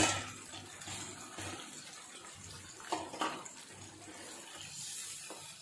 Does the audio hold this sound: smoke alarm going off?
no